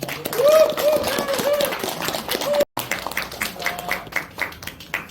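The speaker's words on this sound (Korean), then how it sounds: "힘찬 박수로 앞으로 모시겠습니다" An indoor audience at a Korean community awards ceremony claps to welcome a saxophone group, with steady rapid applause continuing under a voice before a short gap and scattered claps.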